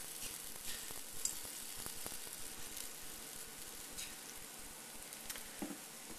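Small silver-dollar gingerbread pancakes fry in coconut oil, a soft, steady sizzle with faint crackles and pops at low, close volume.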